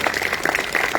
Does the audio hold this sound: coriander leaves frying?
no